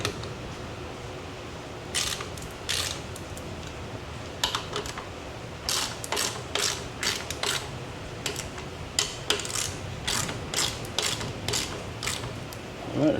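Power Brake Sidekick mounting bolts on a Minn Kota Raptor are tightened with a ratchet, giving clusters of sharp clicking that repeat in short bursts, close to the mic, with no talking.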